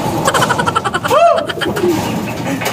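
A pigeon coos once nearby, a soft rising and falling call over steady background noise.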